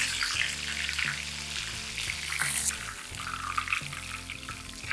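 Battered prawns frying in hot oil for pepper garlic crispy prawns, a steady close sizzle and crackle running throughout with no talk.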